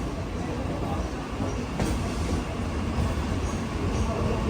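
A train pulls into Mahalakshmi station in Mumbai with a steady, loud rumble of wheels and carriages running close by throughout.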